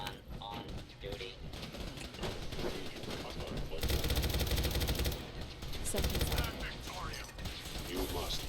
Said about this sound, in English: The gun started to shoot me.